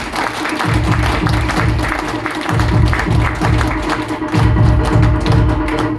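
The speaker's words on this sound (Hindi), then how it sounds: "आपकी तालियां बजती रहें" Audience applause at a seminar gathering, loud and continuous, with rhythmic pulses suggesting a crowd clapping in unison or near-unison beats over the full span.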